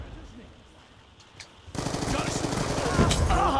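Automatic gunfire in Call of Duty Black Ops II, Kill Confirmed mode, starts abruptly after a quieter stretch and continues as dense, loud rapid shots to the end of the clip.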